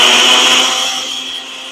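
A kitchen blender whirs loudly up close as it purees a plant-based cheeseburger mixture, a harsh high-pitched motor whine that tapers slightly as it runs.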